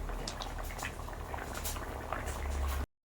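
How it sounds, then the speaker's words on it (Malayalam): A pot of thick beef and potato curry bubbling at a rolling boil, continuous gurgling and popping heard up close with no talking. "കറി തിളച്ചുകൊണ്ടിരിക്കുകയാണ്"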